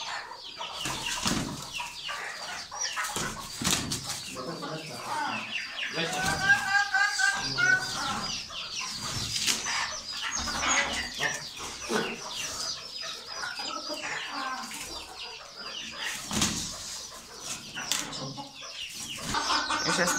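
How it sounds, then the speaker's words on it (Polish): A rooster and chickens cluck and squawk with bursts of wing flapping after a rooster fight, busy and close, while people talk over the commotion. "Ej, bo tu wskoczył kogut."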